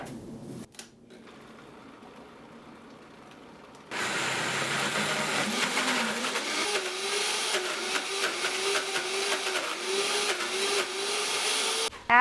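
Blender whirring through fermented cashew cheese with probiotic liquid: quiet handling at first, then a loud, steady motor roar that starts abruptly and runs on continuously, its pitch rising slightly as the mixture loosens.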